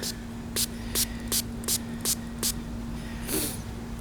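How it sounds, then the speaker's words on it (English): Several short bursts of spray hiss in a steady rhythm, close by, over a low constant hum, with a longer spray near the end, as a sprayer treats tomato plants for leaf spot. "So, I'm going to spray these down."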